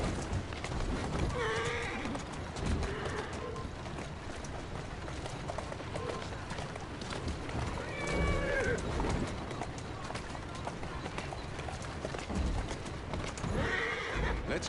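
A horse neighs and whinnies several times, loud and fairly close, with clip-clop hooves and birds in the background and a person talking softly between calls.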